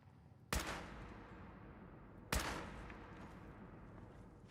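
Two sharp gunshots from Fallout 4, spaced almost two seconds apart, each a loud close crack followed by a long reverberant tail, with no talking.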